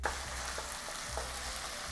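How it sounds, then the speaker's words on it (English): Steady sizzling of meat and miso stir-frying in a pan with soft, regular scraping strokes of stirring, close and continuous. "Once miso is added, it will easily burn, so stir-fry, being careful not to burn."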